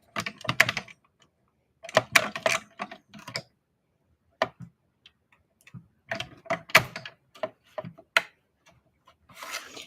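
A hand-cranked die-cut and embossing machine rolls a plate through in card making, giving clusters of quick clicking and ratcheting taps with short pauses between them.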